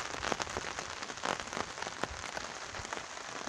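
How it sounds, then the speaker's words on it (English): Rain falls steadily on a Snugpak 10×10 tarp on a July afternoon, a dense, continuous patter with scattered louder drops hitting the fabric close by, with no voices. "on a rainy July afternoon"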